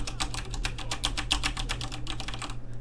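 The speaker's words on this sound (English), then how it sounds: "I realized that I have a new mechanical keyboard" Fast typing on a new mechanical keyboard, a close run of sharp, clicky keystrokes in quick irregular bursts over a low hum.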